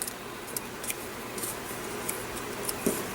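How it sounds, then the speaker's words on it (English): Scissors snip through paper while a small pumpkin shape is cut out for a journal page: a series of faint, crisp cuts spaced irregularly, close by, with no talking. "I'm just going to cut another little pumpkin out."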